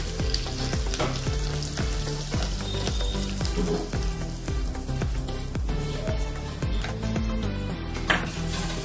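Oil sizzles loudly and continuously in a hot pan as a tempering for appe batter cooks, with crackling spatters and rhythmic scraping knocks as something is stirred.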